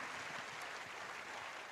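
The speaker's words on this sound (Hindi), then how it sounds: "सो जोरदार तालियों से स्वागत करिए प्रज्ञा का" Dense, steady applause from an audience welcoming a guest named Pragna, a continuous wash of many hands clapping at moderate volume with no clear individual claps standing out.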